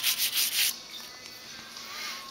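Strider knife blade scraped against a sharpener in several quick rasping strokes, close and loud, then a quieter steady grinding hiss.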